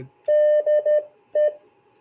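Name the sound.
Morse code DE sent slower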